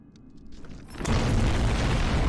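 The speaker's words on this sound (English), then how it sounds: "And it exploded." A machine explodes in the horror game Cayne, a sudden loud, deep boom that bursts in after a quieter mechanical lead-in and sustains as a heavy rumbling roar.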